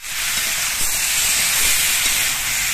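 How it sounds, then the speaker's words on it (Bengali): Mixed vegetables with salt fry in a pan, giving a loud, close, continuous sizzling hiss that holds steady throughout. "নুন দিয়ে সবজিগুলোকে একটু ভেজে নেব।"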